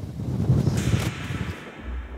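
Strong wind gusts buffet a mountainside above Arosa during a hunt, a heavy low rumble that swells, then eases toward the end with no voices.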